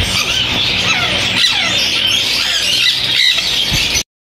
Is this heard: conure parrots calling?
yes